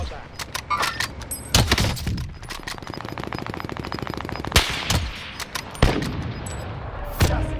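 Rapid automatic gunfire from Call of Duty: Modern Warfare, a sustained rattling burst between loud single cracks and thuds, close and dominant, with voices talking faintly in places.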